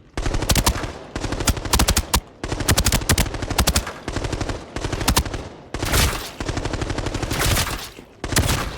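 A suppressed assault rifle in the video game Arena Breakout fires in repeated rapid full-auto bursts, each about half a second to a second long, with brief pauses between them and no talk.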